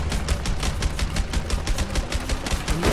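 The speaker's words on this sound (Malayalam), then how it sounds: "ഇനി ഞാൻ വെടിവെക്കാം എടോ" Rapid automatic gunfire in the action game A Way Out, a dense, continuous string of loud close shots hammering at an even fast rhythm for the whole stretch, with no voices.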